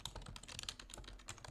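Fingers tap a computer keyboard in quick, uneven bursts of close, crisp keystrokes, quiet overall and with no one speaking.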